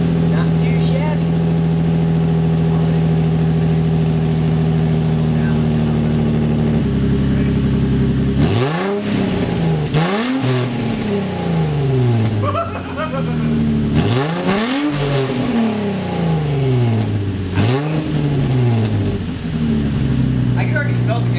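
Infiniti G35 engine fitted with BERK resonated test pipes, idling with a steady low drone, then a series of sharp revs rising and falling in quick succession, loud and close, with voices faintly under the engine.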